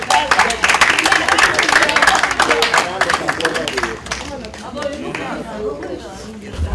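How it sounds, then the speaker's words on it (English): Audience applause at a Nigerian comedy event, with clapping and crowd chatter loud at first and fading slightly toward the end, voices mixed in throughout. "A round of applause as she goes to put on her swimming trunk."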